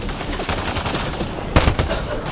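Dense, loud gunfire in the video game Mass Effect: Andromeda rattles on continuously with overlapping rapid shots and a heavier burst of impacts partway through.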